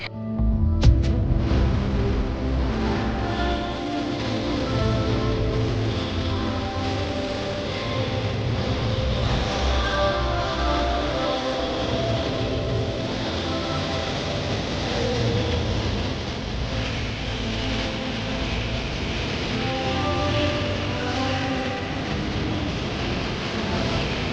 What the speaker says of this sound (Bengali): এই দেখো বন্ধুরা আমাদের ট্রেন ছেড়ে দিয়েছে